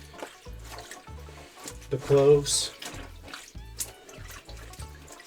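Warm water runs from a tap into a sink being filled to soak fight clothes, a steady splashing flow swelling in the middle while someone talks over it.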